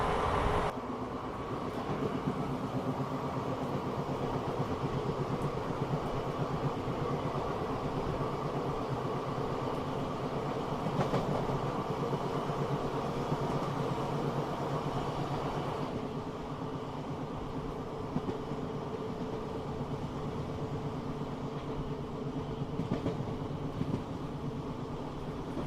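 A Pongal festival special train from Bengaluru to Madurai rumbles steadily along the rails for a long stretch, a continuous low roar with faint rhythmic clatter and no voices.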